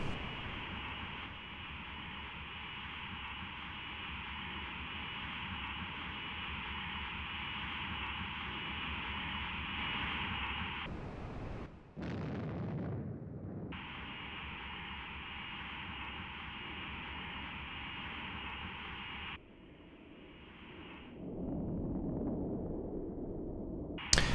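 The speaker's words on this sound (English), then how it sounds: "Steady the aircraft, Put your nose on the target, magnify to 32 power if necessary, lock, and launch." Kh-29TE air-to-ground missile launched from a jet in the Flanker 2.5 flight simulator: a steady loud engine drone is broken by a sharp launch rush, a gap, then the drone resumes before a heavier burst of impact rumble near the end.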